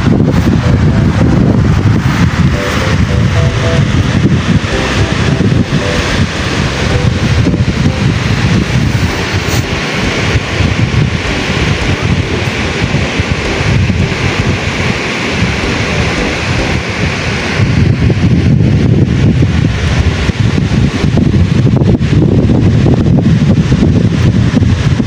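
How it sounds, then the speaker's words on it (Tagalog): Strong wind gusting by the lake at Carcross, a loud continuous roaring rush buffeting the microphone for the whole stretch, with no voices. "Medyo mahangin ng talaga."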